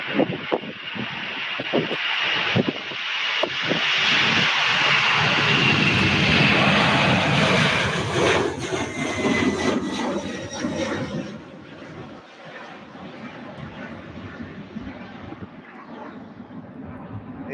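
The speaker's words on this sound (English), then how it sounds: "here's a UPS Airways A300" A UPS Airways Airbus A300 jet roars loudly and steadily overhead near an airport, peaking around the middle and then fading to a softer, distant rumble with some wind noise.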